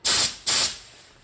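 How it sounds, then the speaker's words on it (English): Paint spray gun test-firing on a 1963 Ford Falcon Sprint: two short, loud hissing bursts of atomized paint, the second trailing off into a fading spray. "First I have to adjust the spray pattern."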